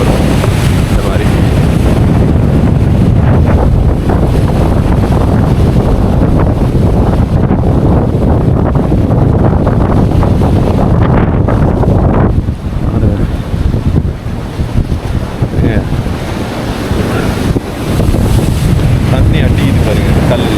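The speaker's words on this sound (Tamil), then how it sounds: "தண்ணி அடிக்குது பாருங்க கல்லில்." Sea waves crash against the rocks at the Hummanaya blowhole in Kudawella, Sri Lanka, with a continuous loud roar of surf and buffeting wind on the microphone. The rush briefly eases before surging back.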